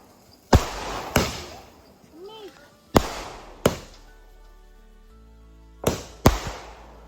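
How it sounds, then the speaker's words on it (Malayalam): Firecrackers burst during Vishu celebrations at home, sharp loud bangs arriving singly and in pairs with pauses between, echoing briefly, while people's voices murmur faintly in the background. "എല്ലാവരും കൂടെ വീണ്ടും സെക്കൻഡ് റൗണ്ട് പടക്കം പൊട്ടിക്കലിന് വേണ്ടിയിട്ടിരുന്നു"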